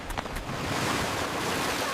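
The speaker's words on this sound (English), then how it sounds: "Ready for some mega waves," Ocean waves in a Paw Patrol cartoon rush and wash continuously, loud and broad with a windy hiss, no voices present.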